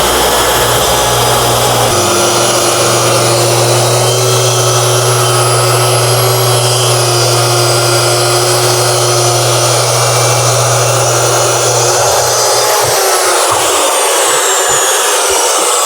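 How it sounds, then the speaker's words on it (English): A track saw plunges in and cuts across the end of a wooden table top, a loud continuous motor whine and cutting roar that runs for several seconds before winding down near the end. "Let's plunge this in there and make our cut all the way across the end of our tabletop."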